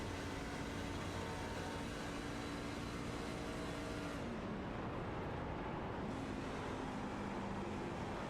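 A steady, droning race truck engine roar from the iRacing sim at Pocono, with a shifting pitch that dips midway, continuous and loud with no talking.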